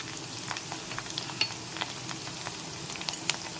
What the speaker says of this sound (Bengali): টমেটো দিয়ে এই সবজিগুলো একটু নেড়ে চেড়ে ভেজে নিচ্ছি